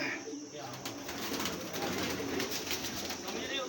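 Pigeons coo near and low in a loft, a dense murmur of birds steady throughout.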